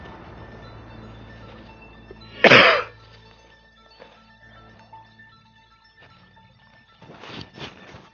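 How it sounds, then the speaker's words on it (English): A single sharp cough rings out close by in a quiet room, followed a few seconds later by a couple of softer coughs. "I wish this cough would go away"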